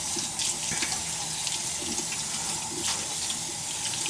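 Water runs steadily from a tap during handwashing, a loud continuous rushing splash that fills the whole clip with no talking.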